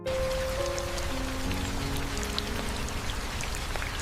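Steady rain patters nearby, a constant wash of drops striking surfaces, unbroken for the whole stretch with no speech.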